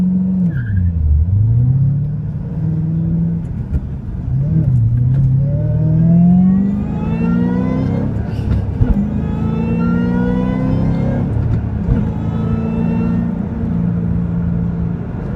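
A 2007 Ford Shelby GT500 roars as it accelerates on a highway, its engine note climbing through several gear changes, loud and close from inside the car.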